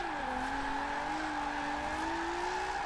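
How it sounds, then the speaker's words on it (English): Car in Forza Horizon 4 on snowy mountain roads: a continuous engine drone with a rising and falling tire squeal as the car skids, steady and fairly loud throughout, with no talking. "So it's here, back with the skids, on the snowy mountain roads."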